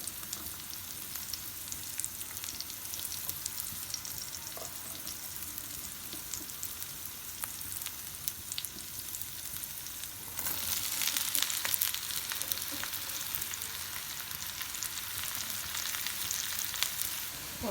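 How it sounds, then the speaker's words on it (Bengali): Pointed gourd (potol) pieces fry in hot oil with a continuous, close crackling sizzle that grows noticeably louder and busier about two-thirds of the way through, with no talking. "আগে পটল ভাজিটা করে ফেলবো"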